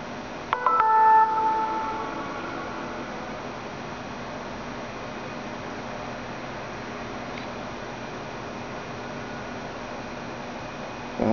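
An Avaya 11xx SIP desk phone rebooting gives a brief cluster of beeping tones near the start, then a long stretch of faint steady hiss before a small click at the end; no one speaks.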